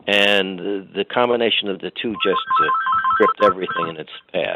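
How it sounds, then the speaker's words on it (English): A mobile phone ringtone chimes a bright, repeating melody partway through, playing under a man's continuous speech. "That's my phone."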